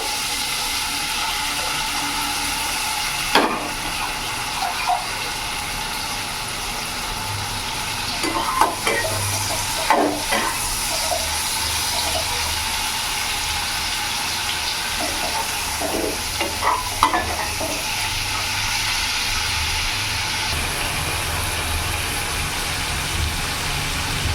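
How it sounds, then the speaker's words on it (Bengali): Turmeric-coated prawns fry in hot oil, a continuous close-up sizzle broken by occasional sharp clinks and scrapes of stirring against the pan. "আমার তেলটা গরম হয়ে গেছে, আমি চিংড়ি মাছগুলো ছেড়ে দেবো।"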